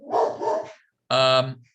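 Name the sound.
dog barking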